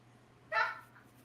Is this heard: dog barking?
yes